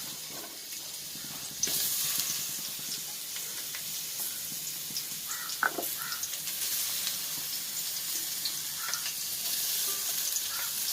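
Snake gourd poriyal fries and sizzles steadily in a pan, with scraping stirs and small spatula knocks rising above a constant close hiss.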